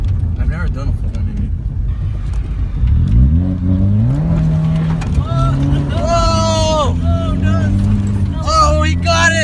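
Lifted truck engine revving hard during a full 180 spin, loud rising and falling revs with excited voices talking over it.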